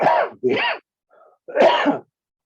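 Several harsh, raspy coughs close by: two quick bursts, a short pause, then one more.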